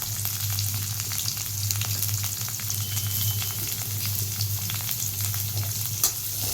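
Sliced large onions sauté in hot oil for a fish curry, giving a steady, loud, close sizzle and crackle with faint stirring scrapes throughout and no voices.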